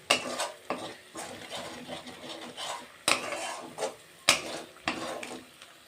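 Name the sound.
stirring spice paste with a little water in a pan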